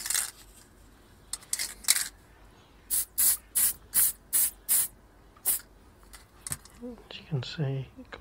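Black gloss spray paint on a Hot Wheels Porsche Carrera model comes in short, sharp aerosol bursts, several quick hisses in a row, close and loud, with small clicks and a brief voice near the end.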